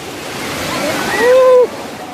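Ocean surf rushes in a continuous roar that swells briefly, with a faint high voice-like tone rising over it near the middle.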